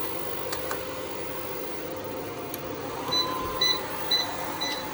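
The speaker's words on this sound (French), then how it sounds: "je peux brancher ici le sèche-cheveux." A hair dryer runs off a home solar power system, giving a steady whooshing hum with a few faint, brief beeps layered on top.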